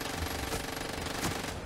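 Rapid automatic gunfire from a heavy-recoil gun in Far Cry 6, dense and continuous at close range, with game effects layered underneath and no talking.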